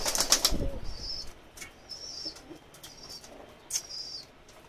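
Pigeons beat their wings in several quick flurries close by, first a loud burst of flapping, then shorter, softer bursts with faint chirps and high calls in between.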